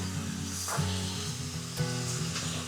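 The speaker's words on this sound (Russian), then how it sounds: "А здесь мясо мы сейчас жарим и, конечно, должны не забывать помешивать" Steady crackling sizzle of pork belly frying in a hot pan, continuous and close, with a couple of brief stirring scrapes and no talking.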